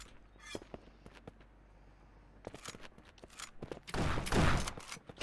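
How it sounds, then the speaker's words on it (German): Burst of gunfire in the shooter game Shotgun Farmers, scattered sharp shots early on, then a dense, loud volley near the end. "Bio, schieß doch nicht auf mich!"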